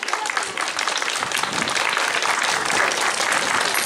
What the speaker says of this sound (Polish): Za to należą mu się brawa.